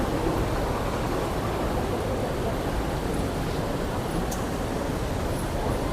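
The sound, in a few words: water leaking and dripping everywhere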